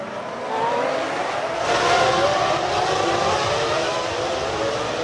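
Formula 1 race cars of the 2004 season accelerate after a safety car period, a sustained high engine whine that swells and holds, with several cars blending into one loud roar.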